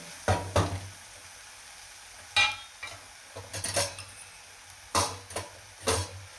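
Cluster beans (gavar) are sautéed dhaba-style in a pan with turmeric. A spatula scrapes and stirs in short bursts over a faint, steady sizzle, with no talking.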